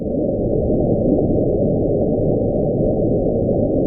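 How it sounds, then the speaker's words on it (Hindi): A mysterious underwater sound recorded near Point Nemo in the South Pacific, known as The Bull, rumbles as a loud, continuous low roar that stays steady throughout with no pauses. "अब आप लोग द बुल को साउंड को सुनिए।"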